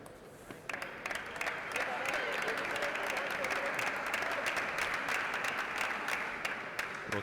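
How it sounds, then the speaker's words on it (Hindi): Sustained applause from team members in the stands at a university table tennis men's team final, Mumbai University against SRM University, steady clapping throughout with an announcer's voice over it. "प्रोत्साहन के लिए तालियां खासी मिल रही हैं दोनों ही खिलाड़ियों को अपनी अपनी टीम मेंबर्स से"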